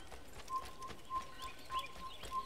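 Hooves clip-clop at a steady trot, a repeating rhythmic patter with a faint ringing tone, set against a soft game-like background ambience, in Assassin's Creed.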